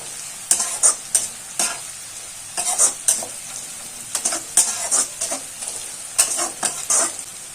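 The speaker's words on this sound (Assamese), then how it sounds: "এতিয়া মই তেলতে হালধি পাউডাৰ দি দিছো।" Turmeric powder fries in hot oil with a constant sizzle, broken by repeated scraping and clinking as a spoon stirs the pan in quick bursts.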